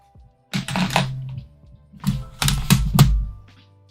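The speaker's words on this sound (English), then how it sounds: "Let me move my keyboard over." A computer keyboard is shifted across a desk, producing a few clattering thunks and key rattles in two close, loud bursts separated by a short pause.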